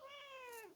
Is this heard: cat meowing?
yes